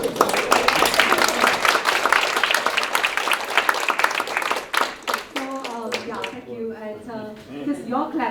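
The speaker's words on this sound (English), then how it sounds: "Just your clap before I even asked you to clap" Audience clapping at a shareholder activism panel session, dense applause from a seated crowd lasting several seconds before thinning out as a voice begins speaking over the last claps.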